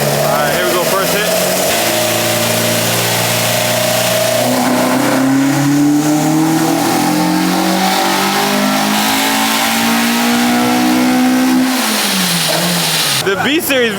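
A Honda Civic EG with a Spoon K20A engine on individual throttle bodies revs hard on a dyno. The loud engine note climbs steadily in pitch for about ten seconds, then drops off, with voices faintly underneath.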